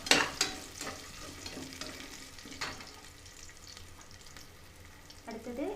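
Crushed ginger garlic paste frying in hot oil in a pan for tomato rice, a steady soft sizzle with a few sharper stirring scrapes near the start, close and moderately quiet.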